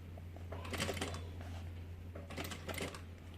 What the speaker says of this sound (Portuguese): A gente vai costurar, ó.